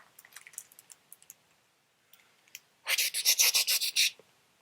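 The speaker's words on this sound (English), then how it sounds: "Bear heard a noise. It was Mouse, brushing his teeth." Toothbrush bristles brushing teeth in a quiet bedroom, a quick run of rhythmic scrubbing strokes near and fairly loud, after a few faint scattered rustles.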